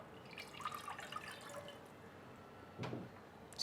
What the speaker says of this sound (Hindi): थोड़ा इसमें पानी भी डालेंगे